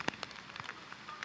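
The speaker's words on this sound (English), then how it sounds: "Rain now picking up in intensity." Rain falls during a men's college soccer final, heard as faint scattered drops pattering on a surface, with no voices.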